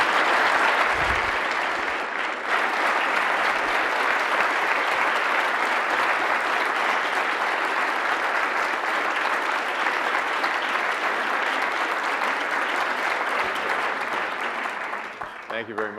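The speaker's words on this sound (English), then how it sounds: "So if we could give him a round of applause, welcome him." Audience applause welcoming Admiral Mike Mullen, a loud, sustained wash of clapping from a large crowd that holds steady for many seconds before tapering off at the end.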